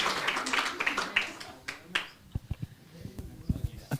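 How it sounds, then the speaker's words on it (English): Audience applause at a film industry workshop session about opening a cinema, a short burst of clapping that thins into scattered individual claps, with some voices underneath. "A big round of applause."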